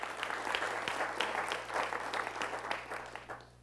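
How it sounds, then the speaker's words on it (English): Round of applause from the audience at a school district event, many hands clapping steadily in a large room for about three seconds before tapering off. "let's give her a round of applause"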